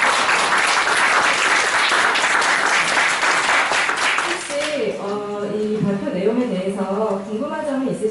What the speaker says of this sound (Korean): 교수님께 다시 한번 박수 부탁드립니다.